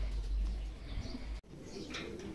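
Racing pigeons coo softly at a loft during club training, a low steady murmur of birds under a brief break, with faint chirps over the top.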